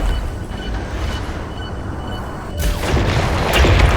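A nuke explodes in the space strategy video game Worbital: a steady low rumble swells into a loud, broad, roaring blast that keeps building and rumbling to the end.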